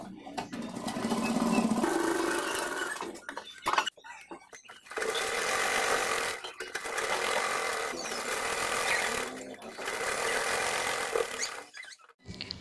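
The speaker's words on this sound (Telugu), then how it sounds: "ఇలా మనం సన్నగా మట్టి పెట్టుకుని అక్కడ మనం కుట్టు వేసుకోవాలి." Sewing machine stitching the joint of blouse cloth, running in long steady whirring bursts of a few seconds each, separated by brief pauses and clicks, loud and close.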